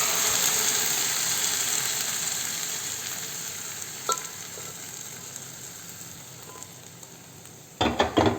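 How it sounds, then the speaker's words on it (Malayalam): Cooked dal being stirred into wilted spinach in a pan for Thrissur-style cheera dal gives a steady soft sizzle, with a light utensil tap midway and a few louder clattering scrapes at the end. "എന്നിട്ട് ഇതിന് നന്നായിട്ട് ഇളക്കി യോജിപ്പിച്ച് കൊടുക്കാം"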